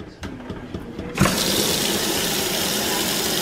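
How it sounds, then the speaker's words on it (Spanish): Tap water pours into a small Prince House cooking pot, starting suddenly and then continuing as a steady, close, rushing gush in a home kitchen. "Voy a ponerle agua una vez."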